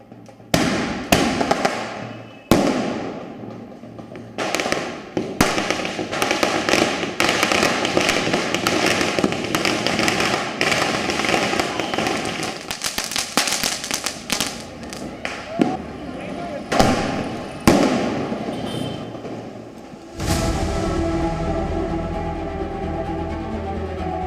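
Green firecrackers set off for Diwali, a rapid series of loud sharp bangs and crackles, some bursts overlapping, followed by a steady rumbling hiss from a fountain-type cracker toward the end.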